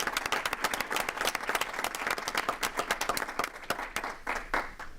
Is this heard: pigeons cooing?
no